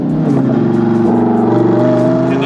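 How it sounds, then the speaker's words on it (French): A Lamborghini Huracán EVO V10 with a seven-speed dual-clutch gearbox downshifts, its engine loud and close with a throaty, rippling roar that holds steady and rises slightly in pitch. "Vous entendez là quand je rétrograde, c'est un pur bonheur en fait"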